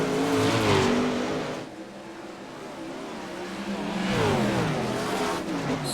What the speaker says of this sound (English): Smith backs out of the throttle, lets Noah Bowman go.